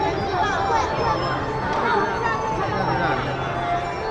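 Dense crowd on a busy street, a continuous babble of many overlapping voices and footsteps close around, steady and fairly loud throughout.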